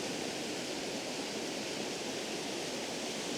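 A large waterfall in Alva Glen, Scotland, roaring as a steady, dense broadband rush that holds an even loudness throughout, with no voices over it.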